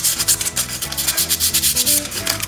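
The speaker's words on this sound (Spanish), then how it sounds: "Esta es 220. Sí, lija 220. Para quitar asperezas." Hand sanding with 220-grit sandpaper to smooth a freshly cut part for a scale-model truck's fifth wheel, fast rhythmic rubbing strokes heard close and alone.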